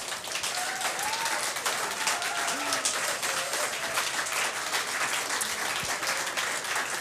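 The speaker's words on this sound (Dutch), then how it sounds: "Ik wil niet vragen om applaus," Sustained audience applause at the close of a regional television election debate, steady clapping throughout with faint voices and a few brief vocal calls mixed underneath.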